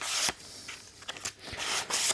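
180 grit sandpaper chamfers the leading edge of a small wooden box lid, giving a few short, close rasping strokes separated by brief pauses.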